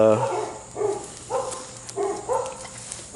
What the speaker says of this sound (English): Got the neighbor's dogs all stirred up out here.